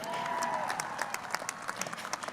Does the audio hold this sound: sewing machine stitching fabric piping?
no